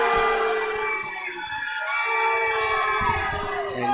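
Crowd noise at a high school basketball game against Springfield near the free throw line, a loud sustained roar of many voices with some shouting and whistling tones rising and falling throughout.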